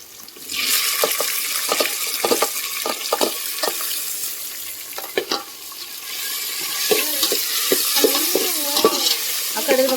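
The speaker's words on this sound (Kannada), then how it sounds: "ಇವಾಗ ಟೊಮೆಟೊ ಹಾಕ್ಕೊಂಬಿಡ್ತೀನಿ." Tomato stir-fried into an onion base for tomato rice, with a bright continuous sizzle and repeated scraping stirs, plus a brief rush of water partway through.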